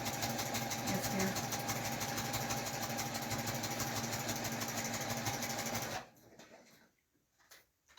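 A sewing machine stitches a bagged table runner at a 3.5 stitch length, giving a close, steady rapid whirring chatter for several seconds before stopping abruptly, with faint handling sounds after.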